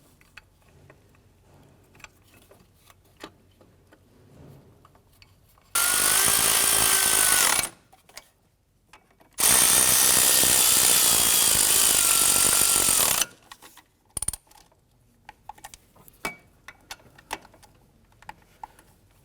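A power tool whirs in two sustained bursts while snugging exhaust manifold bolts on a 1993-1997 Ford Ranger, loud and close, with quiet clinks of tools in the gaps before and after.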